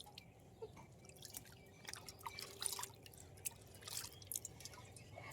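Hands being rinsed of wheat chapati dough under water in a village kitchen, with quiet irregular drips and splashes, soft and close.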